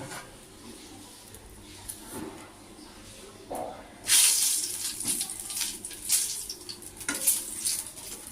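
Dried red chillies hit hot oil in a pan just used for frying fish, starting with soft stirring and a few clinks, then breaking into a loud, bright sizzle that crackles and flares in bursts.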